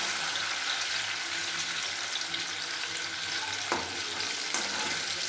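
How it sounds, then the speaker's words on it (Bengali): Pieces of paneer being lightly fried in hot oil produce a steady, close sizzle with a constant hiss and a couple of faint clicks from the pan. "এবার আমি পনিরগুলো হালকা করে ভেজে নেব।"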